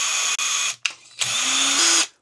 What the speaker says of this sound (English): This is a 3/32 drill bit, and I'm going to open up these holes